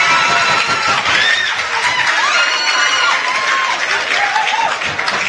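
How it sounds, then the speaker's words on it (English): Crowd at a main-event fight applauds and cheers both fighters after the final bell, a loud, steady wash of clapping with shouts and whistles throughout. "Good round of applause to both fighters"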